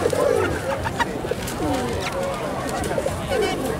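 A dove coos at an agriculture trade fair, its soft rolling calls repeating several times over crowd murmur and nearby voices talking.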